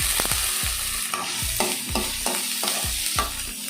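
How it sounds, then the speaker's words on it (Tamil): Chopped onions sautéing in oil in a pan for a Tamil thumbai keerai poriyal, a steady close sizzle broken by repeated scraping stirs of a spoon against the pan, with no talking. "நல்லா வெங்காயம் வந்துட்டு நல்லா வதங்கட்டும்."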